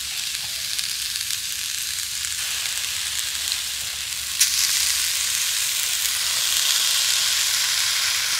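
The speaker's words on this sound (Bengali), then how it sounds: "এবার আমি নাড়তে থাকবো। এইভাবে নাড়তে নাড়তে গুড়টাও গলে যাবে, নারকেলের সাথে খুব সুন্দরভাবে মিশে যাবে।" Grated coconut and cane jaggery cooking in a hot wok, giving a steady close sizzle and frying hiss with soft stirring scrapes that grows slightly louder partway through. No voices.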